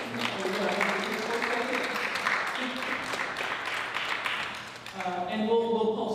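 Audience applause for Alfie Smith at a community gathering, a sustained wash of clapping from a crowd, mixed with talking, tapering near the end as voices take over.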